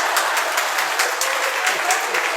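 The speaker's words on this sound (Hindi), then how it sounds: "मौन को, शांति को तो भंग कर ही दिया तालियों के द्वारा" A seated audience at a Jain acharya's morning sermon breaks into loud, sustained applause, dense overlapping claps filling the space with a steady roar.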